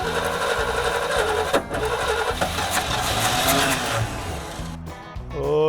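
A 1973 Chevy square-body truck that had not run in 20 years, fitted with a carburetor, cranks with a rapid, rhythmic churning. The engine catches and runs rough and steady, then the sound cuts off sharply near the end.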